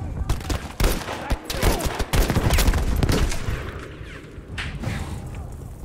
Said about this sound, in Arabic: في مدفع بيضرب عليا